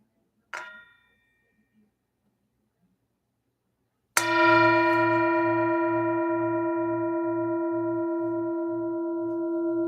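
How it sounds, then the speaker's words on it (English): A mindfulness bell is struck during a guided meditation in a Bible study session, first a faint brief tap, then one clear ringing strike that sustains with a long, slowly fading, pulsing resonance. "I'll invite the bell to sound one more time"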